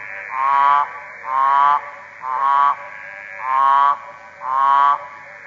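Frogs call at night in the Kimberley, five loud, evenly spaced croaking honks repeating in a steady rhythm, close and alone with no voices.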